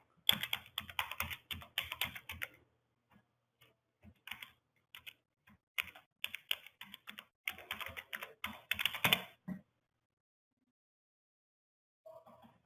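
Fingers type on a computer keyboard in quick irregular bursts of crisp key clicks, separated by short pauses, close and fairly quiet, ending in silence.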